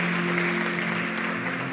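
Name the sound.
congregation applauding the Lord during a sermon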